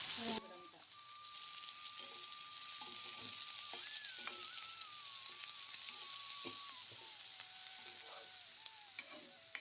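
Onions fry in a pan with a steady, soft sizzling hiss and light stirring, close by, with a faint tonal whine running underneath.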